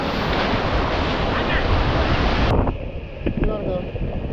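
Sea waves surging at a beach on a rough day, a loud broad wash of surf with heavy wind buffeting the microphone that suddenly drops away midway, leaving softer surf and a few faint voices.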